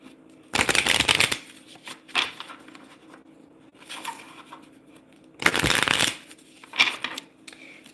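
Archangel Oracle cards being shuffled in two loud, close bursts of riffling, with softer card handling and quieter shuffling in between, and no talking.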